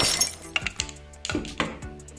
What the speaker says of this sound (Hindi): मजाक में फोन गिर गया रे बाबा